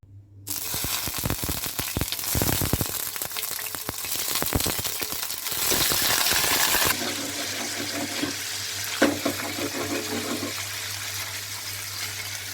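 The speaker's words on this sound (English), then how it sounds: "And now I will add paneer cubes and fry it." Paneer cubes fry in oil in a pan over a low flame, a loud, dense hiss that starts abruptly as they go in, then settles into a steadier crackling sizzle over a low steady hum.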